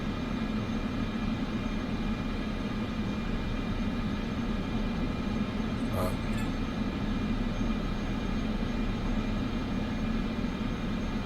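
Cessna turboprop engine droning steadily during takeoff on runway 10 in Microsoft Flight Simulator 2024, a constant loud hum with a faint brief blip partway through.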